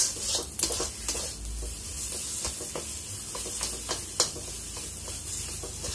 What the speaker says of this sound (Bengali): তারপরে কিছুক্ষণ আর 1 মিনিট ভাজবো, হয়ে যাবে।